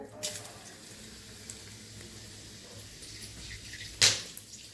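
Whole cardamom, cinnamon and cloves sizzle in hot oil in a wok while fried rice is being cooked, a soft steady hiss with a sharp spitting crackle burst near the end.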